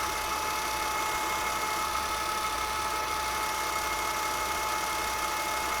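A milling machine running a 9/16 cutter at about 260 RPM through a tough alloy with cutting oil and air, giving a steady, dense mechanical whine and hum with no break or voices.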